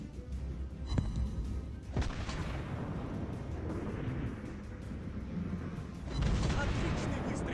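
Booming gunfire from ship cannons in the game World of Warships Blitz, with sharp blasts near the one- and two-second marks over a steady rumbling din, then a louder surge near the end.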